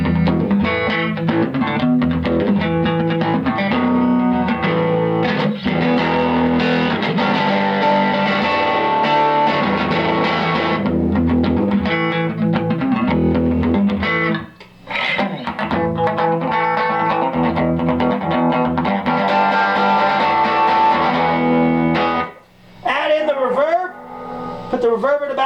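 An electric guitar plays through a vintage Rickenbacker TR14 amp cranked to volume 8, the tone breaking up into a gritty, driven sound over sustained chords and riffs, with short pauses and a brief slide near the end.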